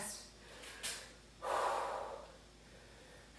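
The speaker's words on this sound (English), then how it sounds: "I'm breathing hard. You can probably hear it on the audio." Heavy, ragged breathing after a cardio and core workout, a few sharp close inhales and a longer rushing exhale, alone and fairly faint.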